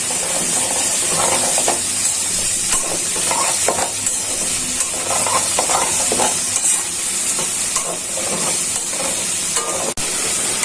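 Cinnamon, cardamom and bay leaf sizzle in oil with fried onions for an egg korma, a steady close frying hiss broken by stirring scrapes and clinks, with no talking.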